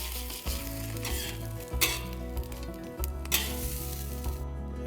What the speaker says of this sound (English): I like my eggs fried a little bit.